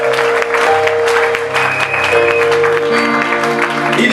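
A church congregation applauds and cheers together, a loud sustained burst of clapping with raised voices and a warm roomy swell, with no let-up across the few seconds.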